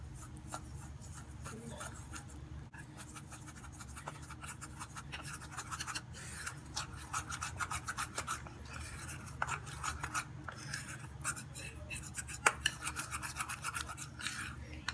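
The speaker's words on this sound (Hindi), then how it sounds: "इन सब चीज़ों को हम मिक्स करेंगे।" Coconut oil, wheat flour and other face pack ingredients being stirred together in a small bowl, a steady soft scraping and rubbing that runs continuously at close range, with occasional sharper taps and no talking.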